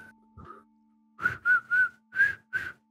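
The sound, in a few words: whistling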